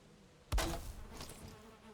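Bees swarm around a hive in Valheim, and the buzzing swells suddenly after a quiet half-second. A close, dense insect drone follows and stays steady to the end.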